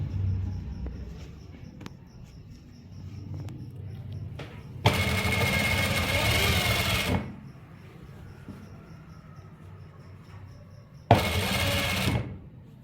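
Sewing machine stitching the pocket panel of men's trousers, two bursts of steady whirring, the first about two seconds and the second shorter, close by with quiet handling sounds between them and no talk.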